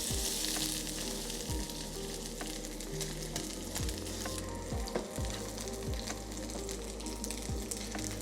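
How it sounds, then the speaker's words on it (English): Steak searing in a hot oiled pan, a steady, close crackling sizzle running throughout with small pops and occasional clicks of the pan, no talking. "Just let it sit there. Apply a little bit of pressure if you'd like. Build that crust."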